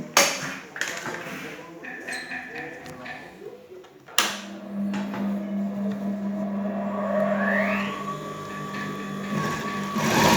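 A Bernina 217 industrial sewing machine stitches S-shaped pintucks, starting with a sharp onset and then running in a steady whirring hum that builds slightly. Brief handling noises come before it.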